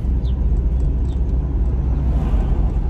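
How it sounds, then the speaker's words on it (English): A work van with an overheating problem is heard from inside while driving, its engine a steady, loud low rumble droning continuously with no talk. "Today, I am driving in my buddy's work van"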